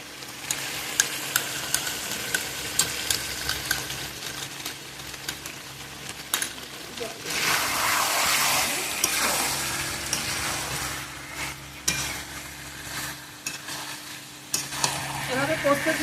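Poppy seed paste fries in a pan of spiced oil for posto chicken, a steady sizzle broken by scraping stirs and utensil clicks, swelling louder in the middle and then easing off.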